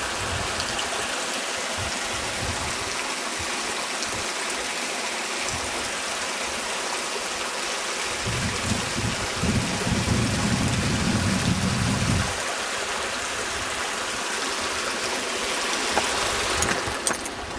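Steady rushing of flowing mountain stream water on the Dudipatsar Lake trek near Naran fills the scene, swelling louder and fuller for a few seconds midway before settling back.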